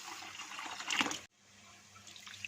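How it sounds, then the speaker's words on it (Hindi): Rice being washed in water in a pot during pulao preparation: soft sloshing and splashing, briefly louder at about one second, then a sudden stop and quieter trickling water. "चावलों को 4-5 पानी में अच्छी तरह से धो लेंगे।"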